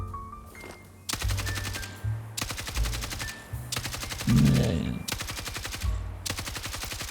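Light machine gun fire in a first-person shooter, heard as long, loud sustained bursts of rapid automatic shots separated by brief gaps, with someone talking faintly underneath.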